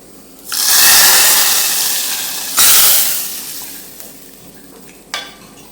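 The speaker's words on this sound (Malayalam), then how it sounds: "നല്ലോണം ഇളക്കി യോജിപ്പിച്ചിട്ട് അത് അടച്ച് വെച്ചിട്ട് വേവിക്കുന്നുണ്ട്" A vegetable stir-fry (varavu) is stirred in a hot pan, giving loud, close sizzling hisses in two long bursts that slowly fade, followed by a quieter scrape and a brief final sizzle, with no voices.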